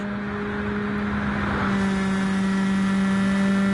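A Number 9 Dodge race car in Gran Turismo 7 comes off turn 4 on a qualifying lap at Daytona, its engine a loud sustained whine that dips and climbs slightly in pitch, alone without voices.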